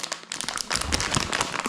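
A dog chew stick being unwrapped, with close, loud crinkling and rustling of its plastic wrapper in quick bursts over a couple of seconds.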